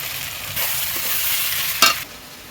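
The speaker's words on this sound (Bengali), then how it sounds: "সেই ইঁচড়টা এখন কষানো হচ্ছে" Raw jackfruit stir-fried in a spice paste cooked with goat fat, a close, loud sizzle with spoon scrapes across the pan and a sharp stirring clatter near the end, no talking.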